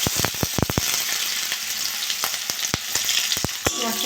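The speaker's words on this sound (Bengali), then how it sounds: "আমি এবার পেঁয়াজ দিয়ে দেবো।" Sliced onions fry in hot mustard oil in a wok with whole cumin seeds and dried red chillies, giving a loud, close, steady sizzle punctuated by sharp crackles and pops.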